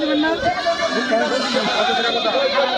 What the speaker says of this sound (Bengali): আর ছাগলের ব্যাবা শব্দে